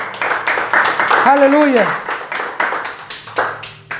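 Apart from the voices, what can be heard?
congregation applauding in church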